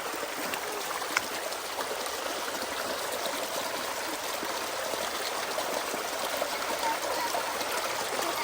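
Gold sluice mats being rinsed and scrubbed in running water outdoors: a continuous, fairly loud rush and trickle of water with soft rubbing mixed in, steady throughout and with no talking.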